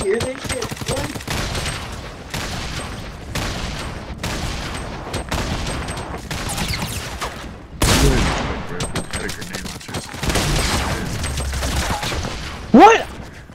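Rapid, dense gunfire from Fortnite Battle Royale fills the stretch, with repeated shots and bursts at a loud, steady level and a sharper volley near the end.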